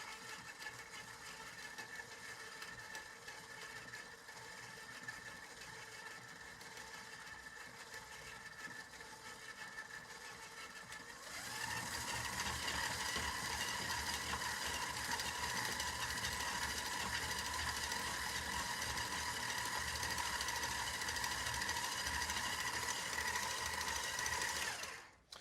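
An electric mixer creaming fat and sugar in a bowl, its motor whirring steadily at low speed, then stepping up to a louder, busier whir at medium speed for the rest of the time.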